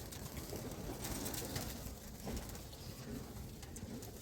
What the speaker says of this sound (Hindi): बड़े ही अच्छे एक हाई क्वालिटी अच्छे अड्डा वाले कबूतर का